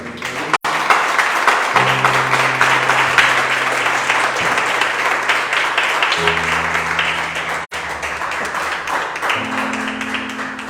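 A church congregation claps as an offering of praise to the Lord, dense sustained applause filling the room for about ten seconds over a low organ or keyboard drone that shifts chords.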